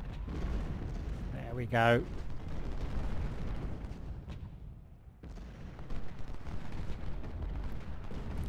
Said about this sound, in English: Another salvo with the guns.